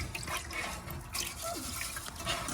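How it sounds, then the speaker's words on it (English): Water poured into a Ridgemonkey pan to cook rice inside a VW California campervan, a steady close splash and trickle heard alone, without voices. "Just adding water. Water to cook the rice."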